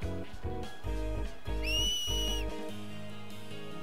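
A video game character in Final Fantasy X gives a short, bright rising whistle lasting about a second, set against loud in-game music.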